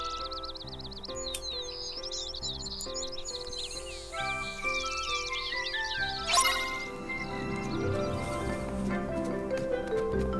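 Cheerful birdsong in Kingdom Hearts 3: bright chirps and trills flutter over a gentle musical backdrop of soft tones, with twittering calls that swell and overlap in the second half.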